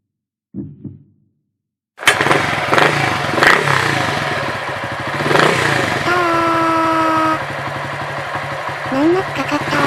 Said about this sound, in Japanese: さあ、エンジンかかるかな？